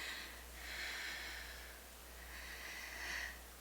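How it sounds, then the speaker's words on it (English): Audible, slow breathing from a person cowering in a chair, two drawn-out breaths with airy, snort-like rasps rising and falling in a quiet room, close and alone. "Audible breathing and stuff to go along with it."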